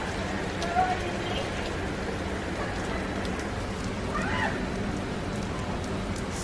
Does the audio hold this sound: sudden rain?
yes